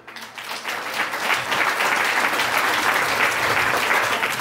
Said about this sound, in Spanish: a quien pido un fuerte y caluroso aplauso